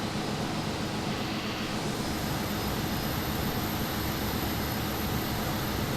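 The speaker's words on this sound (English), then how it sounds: "We have a good engine start." An Airbus A320 engine spooling up during start in a flight simulator game: a steady, loud broadband jet roar with a faint high whine, continuous and unbroken throughout, with no talking.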